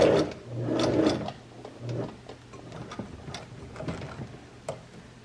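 A sewing machine runs finishing stitches on a homemade gift project. Close, quick mechanical whirring and ticking bursts come and go, then give way to lighter clicks.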